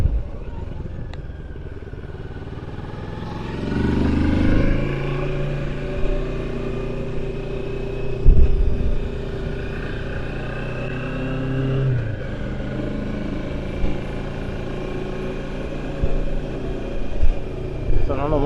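A motorcycle rolls slowly along a short dirt road leading to a restaurant entrance, its engine a steady low rumble with a few gentle throttle swells, while voices talk over it throughout.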